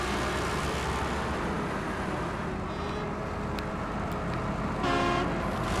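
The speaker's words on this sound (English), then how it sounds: "Sounded like a horn, so I wanted to honk back just in case you're over here." A truck horn honks in a truck-driving video game on a snowy run, a brief tonal blast near the end over steady engine and road drone.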